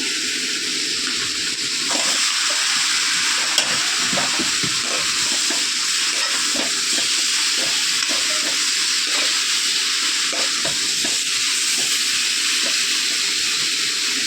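Paneer and capsicum fry in a pan for paneer masala, a steady loud hiss and sizzle running throughout with frequent small crackles and stirring scrapes.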